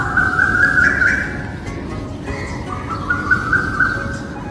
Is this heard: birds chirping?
yes